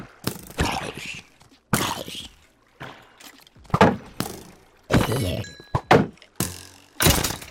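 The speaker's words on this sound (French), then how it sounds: "Mon épée s'est cassée." A sword breaks during a hardcore survival mining session in Minecraft, heard among a series of sharp, separate game thunks and clacks that punctuate otherwise quiet stretches.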